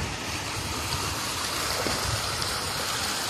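Tiger Waterfall rushes with a continuous, moderately loud watery roar, heard from above the falls, steady throughout with faint trickling detail and no speech.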